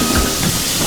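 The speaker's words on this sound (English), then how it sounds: "Henry's safety valve had burst." Steam engine Henry's safety valve bursts in a loud, steady rush of hissing steam that fills the whole moment, with rumbling train noise underneath and no voices.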